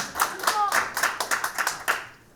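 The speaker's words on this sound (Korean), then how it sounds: "박수 한번 주세요." Several people in an audience at a political lecture in Korea clap in a brisk, fairly even rhythm, about a dozen distinct claps that fade out at the end, nearby and moderately loud.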